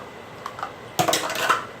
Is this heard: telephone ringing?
no